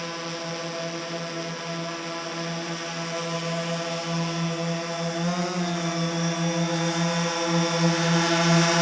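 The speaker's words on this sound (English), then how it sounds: "And now I can just control the drone myself." A DJI Phantom 4 drone in flight gives off a steady, loud, high-pitched rotor whine with strong tonal harmonics that shift slightly in pitch as it manoeuvres nearby.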